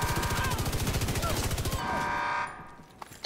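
Rapid automatic gunfire rattles in a war video game, a dense fast burst of shots lasting nearly two seconds before fading into softer noise and a final distant crack.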